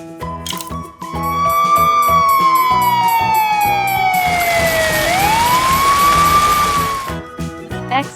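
A toy fire truck's siren sweeps in long slow glides, one drawn-out fall followed by a rise, loud and near over a busy clattering electronic backing that continues throughout.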